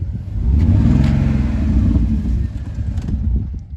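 Spencer's new daily driver car, with a suspected misfire, revving loud and close, a rumbling low engine note rising and holding before easing off near the end.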